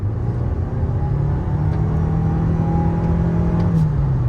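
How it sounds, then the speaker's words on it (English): A 2022 Toyota RAV4 Hybrid XLE Premium accelerating in sport mode, heard as a steady, loud engine and road rumble with a rising whir that holds throughout. "In sport mode, the acceleration is good."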